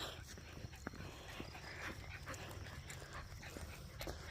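A dog on a walk in a state park after flooding whimpers and yips faintly in short bursts against outdoor background noise, some distance away.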